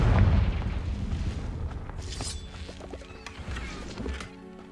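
A Confringo blasting curse in Hogwarts Legacy erupts as a loud, booming explosion at the start, then dies into a rumbling tail scattered with smaller cracks and pops.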